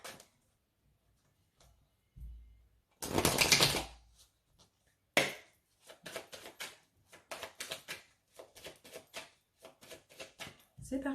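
Oracle card deck being cut and shuffled by hand, a dense riffling burst followed by a long series of light rapid card taps and flicks, close and soft with quiet gaps between.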